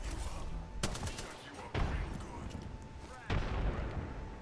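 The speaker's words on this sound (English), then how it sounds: "grenade the crap out of them" Grenades go off in the Apex Legends battle royale as three heavy, booming blasts, each with a sharp onset and a rumbling tail over a steady din of game noise.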